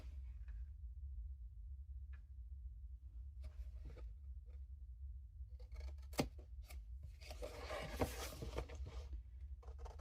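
Scissors cutting through a cardboard box from a Miniverse Honeydukes trolley, faint at first and then louder rasping snips and crunches toward the end, over a low steady hum.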